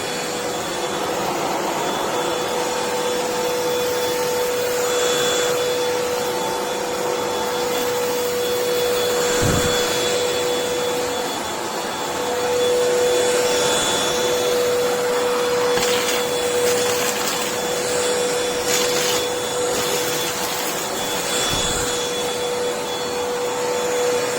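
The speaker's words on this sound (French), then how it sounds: "J'allume l'aspirateur." An Amazon Basics cordless 2-in-1 stick vacuum with a 150W DC motor runs continuously, a steady high-pitched motor whine and airy rush holding at an even, fairly loud level throughout, with a few small bumps and rattles as it sweeps debris off the floor.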